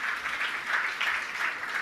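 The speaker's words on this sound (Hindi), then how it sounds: "जोरदार ताली से उनका स्वागत कर दें" Applause from an audience welcoming trustees at a Jain religious gathering in India, a steady wash of clapping that continues throughout the brief stretch at moderate, even volume.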